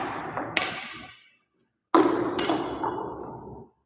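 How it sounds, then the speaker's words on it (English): Two badminton push shots striking the shuttlecock on a court, each a close, sharp thwack followed by a reverberant ringing tail, separated by a brief silence, with no speech. "That's how you do the push shots."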